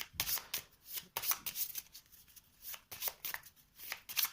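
Cards from The 7th Continent board game shuffled by hand in several quick riffling bursts separated by short pauses, close and fairly soft, with no talk.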